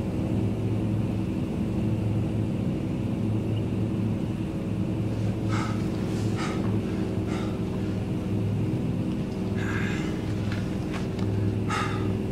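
A film scene inside an aircraft cabin, with a steady low engine rumble droning throughout and a few faint higher rattles and knocks near the end.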